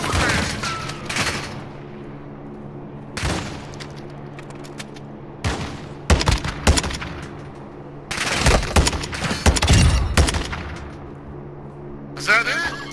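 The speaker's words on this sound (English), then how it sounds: "They shoot at me." Gunfire in the video game Call of Duty: Modern Warfare II comes in several sharp bursts and volleys, some rapid and overlapping, over a steady background hum with a player talking.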